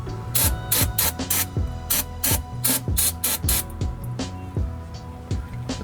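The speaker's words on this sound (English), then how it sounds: "I'm going to hit with a little brake cleaner and then scrape some of this gasket off." Brake cleaner sprays from an aerosol can in a rapid series of short, sharp hissing bursts, close and fairly loud, used to prep a gasket surface before fitting a new front actuator.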